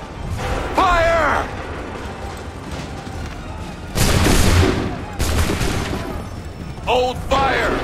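Musket volleys from a line of soldiers fire on command in Assassin's Creed 3, loud broadband blasts near 4 s and 5.2 s, with shouted orders and voices between the shots.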